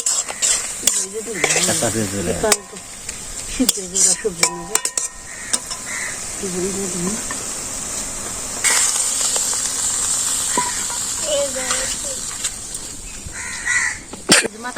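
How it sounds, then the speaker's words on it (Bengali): Onions fry and sizzle in a pan for a hilsa head and Malabar spinach curry, stirred with repeated scraping strokes, while crows caw outdoors in the background and voices come and go. "পেঁয়াজ দিয়ে দিচ্ছে পেঁয়াজটা কি ভাজাই দেন না সব নাকি ভেজে"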